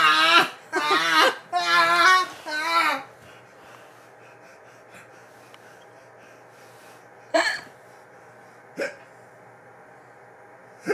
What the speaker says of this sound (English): Oh, baby has a hiccup.